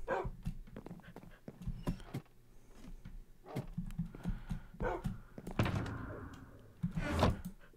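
A dog in the video game Minecraft barks repeatedly in short, sharp bursts, interspersed with thuds and soft whimpering sounds at moderate volume.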